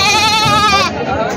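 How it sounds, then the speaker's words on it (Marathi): A goat bleats loudly and close by at a livestock market, one drawn-out wavering call followed by a shorter second bleat. "शेळ्या"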